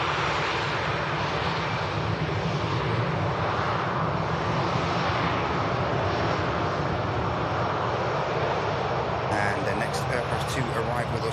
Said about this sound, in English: the Pegasus I mentioned for Antalya now actually beginning the taxi from Pier 1